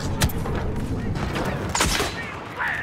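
Grenade blasts and rapid gunfire in a Star Wars Battlefront II Galactic Assault battle, a dense loud clatter of shots with several booming thuds.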